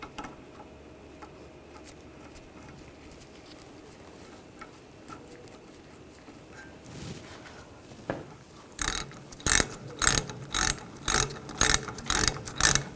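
A ratchet tightens a brake hose banjo bolt into the caliper on a 2014-2018 GMC Sierra 1500, giving a steady series of close, crisp clicking strokes after a quiet stretch.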